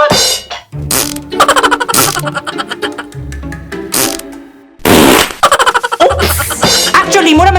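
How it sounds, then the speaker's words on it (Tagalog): A held-in fart comes as a series of short, squeezed, sputtering bursts with brief gaps, loud and close, mixed with comic vocal noises and snickers. "Ang utot nga naipit!"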